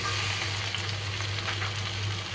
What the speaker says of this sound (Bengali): তো আমি এখন এই তেলে দেখুন দিয়ে দিব পেঁয়াজ